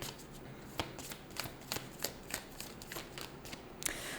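Moonology oracle card deck shuffled by hand, a steady run of crisp riffling clicks and soft card slaps, close and clear with no voices.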